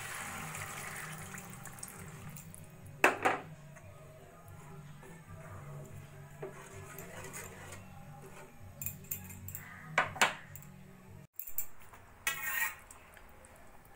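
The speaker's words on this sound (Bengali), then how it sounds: "এবার দিয়ে দেবো আমি পরিমাণ মতো জল।" Water is poured into thick curry gravy in a pan, a soft splashing trickle under low background noise, with a few sharp clinks and knocks of utensils scattered through.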